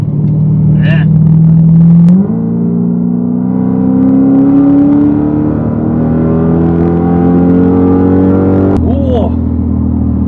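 Loud Dodge Challenger Hellcat V8 with a modified drift exhaust, a steady deep drone that steps up in pitch under acceleration, nearby on the road, with brief bursts of people talking at the start and end.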